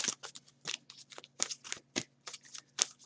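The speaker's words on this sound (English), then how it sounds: "let me shuffle this up too" Tarot cards are shuffled close up in quick, uneven riffling bursts, faint and crisp, with a low hum beneath and no talk.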